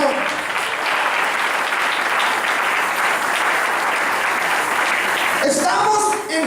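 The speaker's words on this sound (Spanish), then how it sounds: "Den un aplauso más fuerte al Señor." Congregation at a church service claps loudly and steadily for about five and a half seconds as sustained dense applause, then a voice breaks in near the end as the clapping fades.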